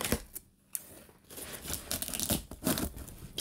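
Packing paper crinkles and rustles up close while books are unboxed, in quiet irregular bursts of crackling with short pauses between handlings.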